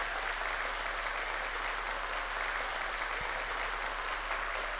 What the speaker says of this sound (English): I exit the stage while the applause is still ongoing.